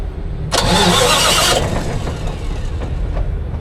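A 1200 kW generator engine cranks and catches with a sudden loud burst of starter and combustion noise. It settles within a second or so into a steady, rumbling idle up close.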